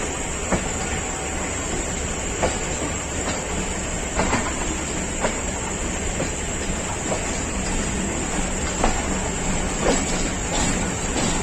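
A Pakistan Railways train rolling on the Wazirabad–Sialkot line gives off a steady rumble with periodic wheel clicks over rail joints and a faint high hiss, close and continuous, with no talking.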